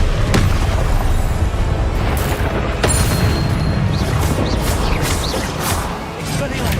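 Booming spell blasts from the Confringo fire curse in the wizarding game Hogwarts Legacy, loud and dense, layered with crashing impacts and combat noise under scattered voices.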